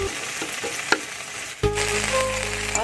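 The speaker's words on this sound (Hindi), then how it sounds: "और यहाँ बन रही है भिंडी की फ्राई।" Okra (bhindi) frying in a home kitchen pan, a steady close sizzle that jumps to a louder, fuller hiss partway through and keeps going.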